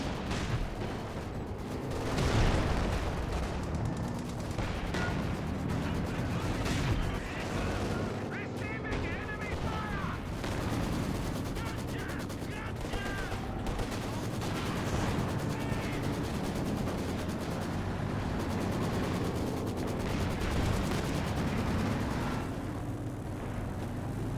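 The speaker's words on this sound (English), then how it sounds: "Nice wipe here by the rifle grenade." Rifle grenade blasts and gunfire from a real-time strategy match, with dense, continuous battle noise of shots and explosions running throughout under a steady commentator voice.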